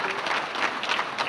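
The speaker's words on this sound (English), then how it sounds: "if we can have a round of applause for these 5" Banquet crowd at a sports hall of fame enshrinement gives a round of applause, many hands clapping in a steady continuous patter, brief and fairly close, with no voices over it.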